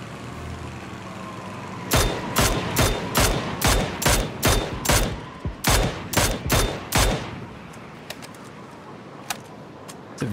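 UMP submachine gun in PUBG fires a fast string of loud, close shots in two tight bursts, followed by a few sparse distant pops as quieter ambience returns.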